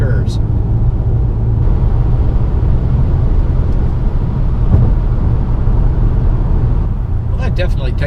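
A 2021 Acura TLX A-Spec in sport mode taking a set of curves, its steady low engine and road rumble heard from inside the cabin, with a person talking over it.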